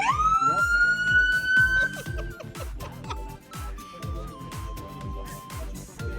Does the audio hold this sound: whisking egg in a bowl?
no